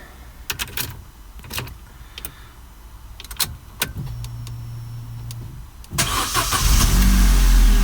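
Vauxhall Corsa D engine, fitted with a replacement crankshaft sensor, is cranked briefly and fires up first time around the six-second mark, settling into a loud steady run after some clicks and key sounds.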